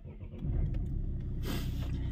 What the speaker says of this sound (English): And now we start the car.